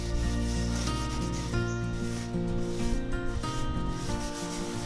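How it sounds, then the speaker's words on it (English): A non-abrasive Scotch-Brite pad spreads satin hard wax oil over spotted gum veneer, giving a steady, continuous rubbing swish for the whole stretch, mixed with a sustained tonal background. "applied using a non-abrasive Scotch-Brite pad and then cleaned off with a rag"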